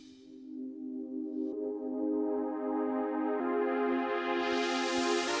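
A sustained synth tone whose filter frequency slowly opens over eight bars, brightening steadily as high overtones sweep upward and grow over several seconds.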